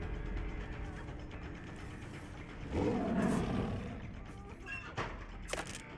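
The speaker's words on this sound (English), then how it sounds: "muffled roar" Muffled roar from the Pig killer in the video game Dead by Daylight, a dull low rumbling swell over a constant game background, with a few sharp clicks after it and talk mixed in.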